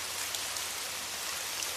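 Heavy rain pours in a dense, even hiss without letup, close and loud, with no talking.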